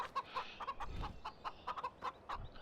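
Chickens cluck in Farming Simulator 15, a steady run of short, fairly quiet clucks repeating every few tenths of a second, alone with no talk.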